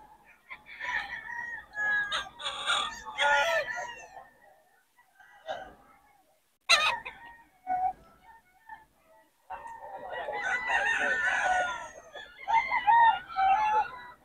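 Roosters for sale at a market in Bocaue crow loudly in bursts, with clucking and bird chatter between calls, near and prominent, with occasional voices nearby.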